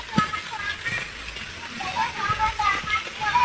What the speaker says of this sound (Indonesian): Soalnya hujannya nggak akan berhenti.